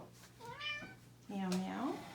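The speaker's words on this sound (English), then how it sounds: "with the cat meowing there" A cat meows twice in a knitting room, the second call louder and longer, with a person talking over and around it.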